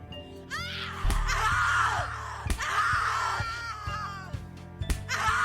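A person screaming in the horror game The Cat Lady, with several loud, strained cries and yells rising and falling over a low droning background.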